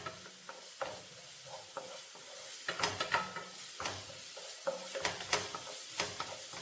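Vegetables sizzle in a pan while a spoon stirs through them in repeated scraping strokes, a steady close frying hiss running underneath.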